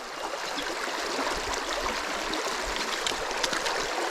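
A mountain stream rushes over rocks in Blue Mountains National Park, a steady, close, full-bodied splashing and hiss of flowing water that continues evenly throughout without voices.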